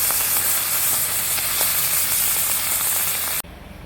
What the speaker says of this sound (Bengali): মাছগুলোকে আমি এখন ভেজে নেব, এপিঠ ওপিঠ লাল করে ভেজে নেব।